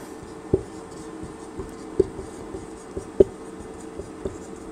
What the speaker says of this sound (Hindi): तो लिखेंगे